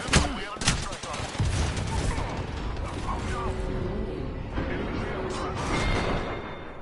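Rapid bursts of video game gunfire crackle almost without pause, loud and dense, with a voice heard faintly among the shots.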